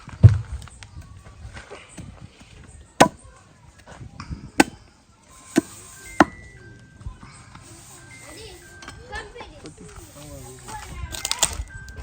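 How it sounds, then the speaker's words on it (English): Chicken being chopped into small pieces for Jamaican ackee chicken and rice, several sharp separate knife chops spaced a second or more apart amid outdoor chatter and background noise. "I get the chicken and chop up."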